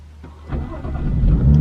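A BMW 435i fitted with a Borla exhaust revs up close by, the deep engine note rising and swelling loud and aggressive over under two seconds with no voices.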